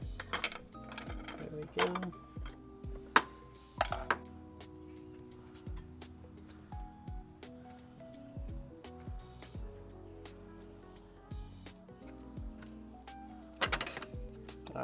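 A wrench works the reverse-threaded 32 mm fan nut off a BMW E36, giving faint, intermittent metallic clanks and ratcheting clicks up close, with a brief spoken remark.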